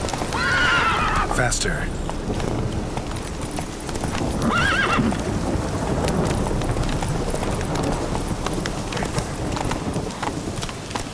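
Roach the horse gallops in The Witcher 3, with steady clip-clop hoofbeats running throughout and a couple of whinnies near the start and middle, while someone speaks briefly over it.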